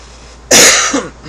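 A single sharp cough bursts out loud and close, followed by a brief rough exhale as it fades.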